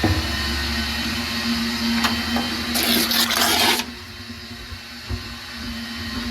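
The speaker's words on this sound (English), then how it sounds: "really nice having the shop vac right at the sink" A shop vac at a sink sucks up diamond honing fluid with a loud steady whine, broken by about a second of harsh gurgling slurp as liquid is drawn in, then the motor hum continues and fades lower.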